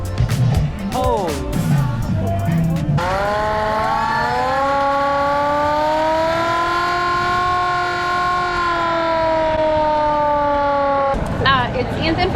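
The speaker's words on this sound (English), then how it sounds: "This is a 1928 fire truck, and it does still run." A 1928 Lansing volunteer fire department fire truck sounds its siren, a loud sustained wail that rises and holds steady for several seconds before cutting off, with nearby talk and street noise around it.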